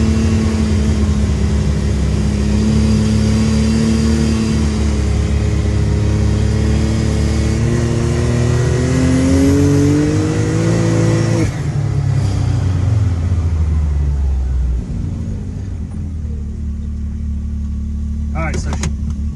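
A UTV engine fitted with bigger wheels and tires revs hard in low gear, a loud steady drone with rising and falling pitch, settling lower toward the end while a voice talks over it.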